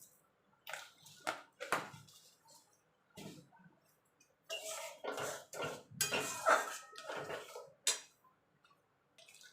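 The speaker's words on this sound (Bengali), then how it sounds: "আর টক দইটা দিয়ে একভাবে নাড়তে হবে।" Sour yogurt stirred into spices in a pan for Kashmiri aloo dum comes through as intermittent scraping and clinking strokes of a utensil against the pan, in uneven bursts separated by quiet gaps, fairly close.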